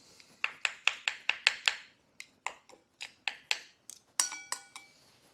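Spoon or utensil clinking against a bowl while Thai dry egg noodles are mixed with crab meat: a quick series of bright, close taps, a pause, more scattered knocks, then ringing clinks at the end.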